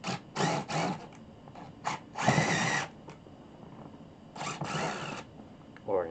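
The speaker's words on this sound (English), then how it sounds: "So confidently I can just drill a hole right next to about an inch over." A power drill drilling a hole in a floor runs in several short, close bursts of whirring, stopping and starting irregularly, with a brief squeak at the end.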